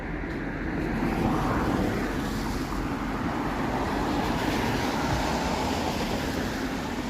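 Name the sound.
GO commuter train passing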